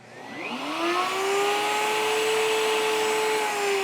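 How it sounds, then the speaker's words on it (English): A Bosch RA1181 router table's router and a shop vacuum switch on together, their loud motor whine rising quickly in pitch and then holding steady and close. "I'm gonna flip this on, the vacuum and this turn on together."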